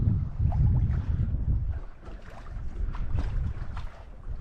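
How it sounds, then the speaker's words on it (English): A sailboat glides at about 2 knots into an anchorage, with a steady rush of water along the hull and gusts of wind buffeting the microphone. No one speaks. "we are ferry gliding into the anchorage over there at about 2 knots"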